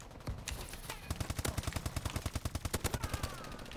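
ASM submachine gun in Call of Duty Advanced Warfare firing a long, rapid automatic burst of evenly spaced, punchy shots, loud and close, preceded by a few scattered shots.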